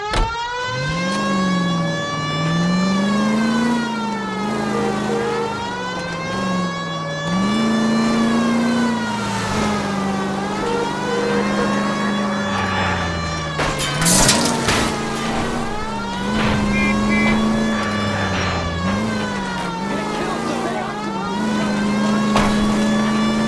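A car in the L.A. Noire video game drives steadily, its engine repeatedly revving up and dropping through gear shifts, loud and continuous, with a brief sharp burst partway through.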